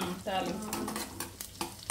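Tempering for homemade tomato pickle sizzles and crackles in hot oil with onion, turmeric and curry leaves, a quiet continuous frying hiss broken by a few stirring scrapes and small pops.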